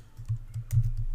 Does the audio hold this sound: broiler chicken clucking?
no